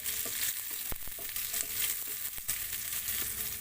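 Onion frying in a pan while sweet and sour tilapia is being prepared, a continuous soft sizzle with a few brief clicks of a utensil, close and steady.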